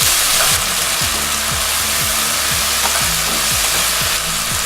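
Green beans and beef sizzle loudly and steadily in a hot pan, with a repeated rhythmic scraping of stirring running under the constant frying hiss.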